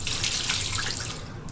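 Bathroom tap running into a sink to rinse off after shaving a beard, a steady hissing water stream close by, alone and unbroken.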